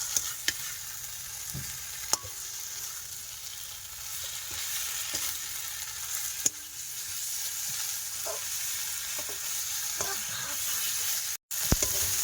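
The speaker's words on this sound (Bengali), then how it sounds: "এই যে মশলার মধ্যে করে মাছ আর বড়ি দিয়ে দেবো, দিয়ে এবারে একসাথে ভালোভাবে কষাই করবো।" Fish and bori sauté in spice paste in a pan with a continuous close sizzle, punctuated by occasional scraping stirs and clinks of a spatula.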